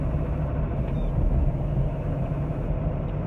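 A Land Rover Defender 90 TD5 XS station wagon with its diesel engine running while driving, giving a steady low rumble and drone heard from inside the vehicle without variation.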